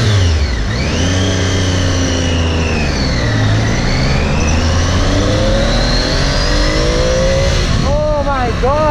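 A Triumph Tiger 800 XRX motorcycle with an inline three-cylinder engine accelerates hard on the Western Express Highway, its loud engine note rising in pitch through the gears over heavy wind rush.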